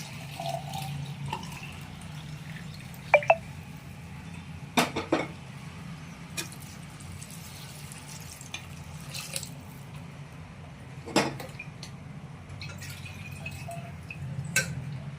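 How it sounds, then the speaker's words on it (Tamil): Water poured into rice for mutton biryani, a steady soft running and trickling wash of liquid with a few faint clinks, fairly quiet and heard on its own without talk. "ஒன்றரை டம்ளர் தண்ணி சேர்த்துக்கலாம்"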